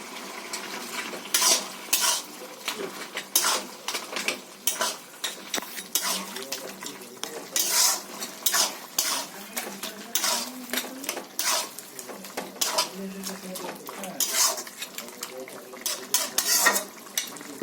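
Rohu fish head, fried beforehand in oil, being stirred into a cooking pot with Malabar spinach, giving repeated scraping and clinking of a spoon against metal with a soft sizzle beneath, close and steady throughout.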